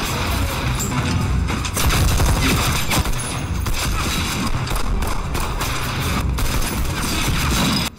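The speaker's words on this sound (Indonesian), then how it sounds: "Mendengar bunyi tembakan, anggota geng yang lain mengambil senjata dan mulai menembak." Gang members open fire in a film, a loud dense fusillade of gunshots and booms that runs without a break, with crashes mixed in through the burst.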